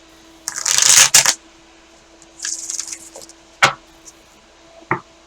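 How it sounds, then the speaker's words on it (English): Cards riffle and shuffle in a long rapid flutter, followed by a shorter shuffle and a few sharp taps of cards on a surface, close by. "I love this deck. It shuffles so easily."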